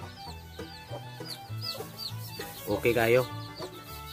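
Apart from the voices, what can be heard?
chicks and hen clucking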